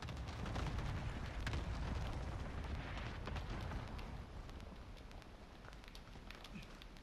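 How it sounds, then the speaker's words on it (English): Cluster strike explosions in a video game rumble as a dense, continuous barrage of booms and crackles, fairly distant and steady, with no voices. "Allied cluster strike."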